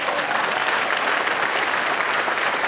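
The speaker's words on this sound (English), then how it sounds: "Y'all can give that a round of applause." An audience at a political speech applauds, a dense, loud and continuous wash of clapping that holds steady throughout.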